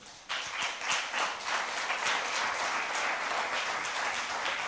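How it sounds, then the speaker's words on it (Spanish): A church congregation breaks into applause for God, clapping bursting in abruptly and continuing as a dense, even roar of many hands, fairly distant and without talk. "Dele otro aplauso a Dios."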